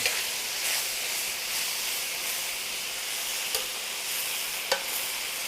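Mushrooms sautéing in one pan for chicken cacciatore, giving a steady close sizzle and hiss with a few brief stirring scrapes and clinks scattered through it.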